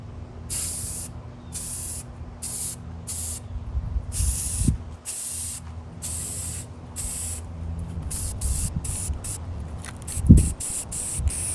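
A spray can hisses in a run of short bursts of varying length, with gaps between them, as light coats go onto a thrifted pendant light's flexible part, and a few soft knocks sound in the background.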